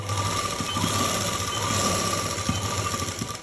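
A sewing machine stitches lace onto fabric along a marked line, running as a continuous droning hum with a rapid mechanical rhythm and occasional knocks, close and alone.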